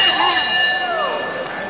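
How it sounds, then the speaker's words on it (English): A boxing bell rings to close the ninth round of a professional bout, a bright sustained metallic tone ringing out over loud arena crowd noise and commentary. "Here comes the bell to end the 9th round."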